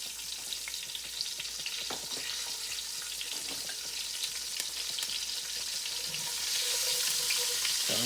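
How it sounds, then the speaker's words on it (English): Onion and vegetables sautéing in a pan for a pot roast, a continuous dense sizzle with occasional light stirring clicks, close and steady, growing slightly brighter near the end, no voices. "We're gonna go ahead and saute our vegetables a little bit."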